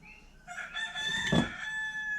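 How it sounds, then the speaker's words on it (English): Wild chickens at a house give a clear rooster crow, fairly close and moderately loud, holding a sustained pitched note with a brief throaty cluck near the middle, and no talking over it. "That's actual chickens."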